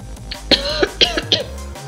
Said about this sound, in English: I need to cough a little bit